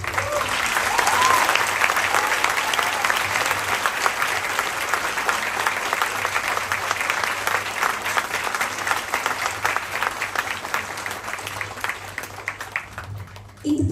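A large audience breaks into sustained applause after an hour-and-twenty-minute music performance, dense clapping and crowd noise holding steady and loud throughout before cutting off abruptly at the end.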